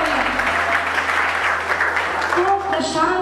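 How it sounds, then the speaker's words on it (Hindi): Loud, dense applause from a workshop audience fills the room for about three seconds, steady throughout and tapering slightly at the end. "जोरदार तालियाँ"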